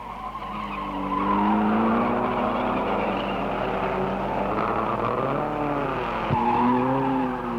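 Lotus sports racing cars lapping Mallory Park circuit, engines roaring loud and close with rising and falling pitch as they pass nose to tail, a sharp transient near the end as another car sweeps by.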